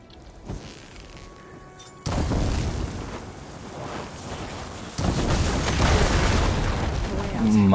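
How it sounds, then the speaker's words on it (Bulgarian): In Horizon Forbidden West, fire ammo sets off blaze barrels and blasts apart a pile of debris, first one heavy boom and then a second, bigger roaring explosion with crackling rubble that stays loud to the end. "I should be able to blow this up to clear the debris."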